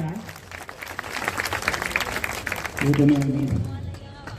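Audience at a Kushwaha community introduction gathering claps to welcome a guest, a steady mass of applause under a loudspeaker voice that continues throughout, with a brief burst of louder talk near the end.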